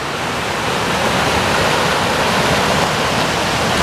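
Waterfall at a camping spot, with a steady, close, full-bodied rush of falling water that fills the whole stretch with no voices over it.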